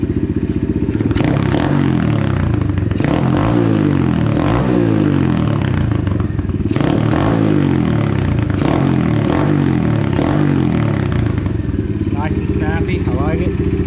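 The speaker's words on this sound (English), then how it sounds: "So let's just check our throttle response here." A 125cc Apollo RFZ DBX18 dirt bike engine with an upgraded carburetor runs loud and close, rising and falling in repeated throttle blips over a steady idle, with talk in between.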